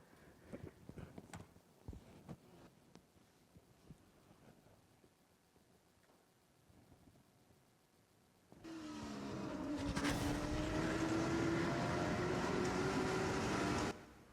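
Race cars at a fairgrounds speedway, faint muffled track noise at first, then a loud roaring engine pass builds and sustains before cutting off.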